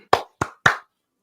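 Three sharp, close hand claps in quick succession, given to a podcast host, followed by silence.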